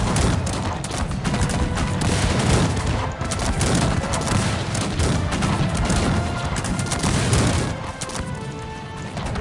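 Dense, continuous barrage of cannon booms and rapid gunfire from frigates in the game Cossacks 3, loud and relentless throughout, with overlapping blasts and crashes like a large battle.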